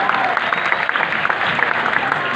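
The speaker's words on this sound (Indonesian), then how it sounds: "Tepuk tangan untuk semuanya." Applause fills a hall holding 100 young people from across Indonesia at a national youth forum, a dense, even patter of many hands clapping together for the whole of the moment.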